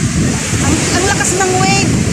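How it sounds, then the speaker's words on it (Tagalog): Strong ocean waves breaking on a shore, a loud close wash of surf with heavy wind buffeting the microphone and voices talking over it. "Ang lakas ng wave."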